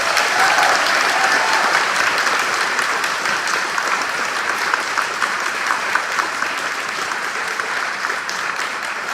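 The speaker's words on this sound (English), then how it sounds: "please give them a round of applause" Steady, full audience applause fills an elementary school's fourth-grade celebration, a dense wash of many hands clapping at an even level for about nine seconds.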